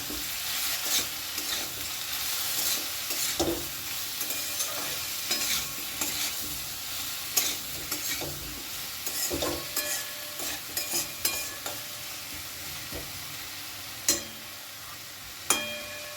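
A mixed vegetable curry stirred in a pan, with repeated spoon scrapes and clinks over a soft continuous sizzle, uneven and close, no voices.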